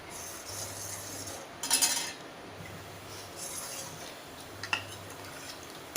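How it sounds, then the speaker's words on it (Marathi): Spoon stirring milk and cornflour in a pan on a gas stove for kulfi, giving faint intermittent scrapes and clinks against the metal, with a brief louder clatter partway through and otherwise quiet. "असं सतत हलवत राहायचं आहे किंवा ढवळत राहायचं आहे"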